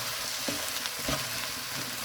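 Peppers fry with fajita spice blend over high heat in a pan, a continuous bright sizzle with a couple of soft stirring scrapes.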